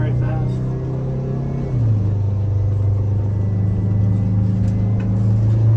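An old engine that sat unused for twenty years runs under load with a loud, steady low hum and rumble, its pitch dropping slightly before settling, while voices talk over it.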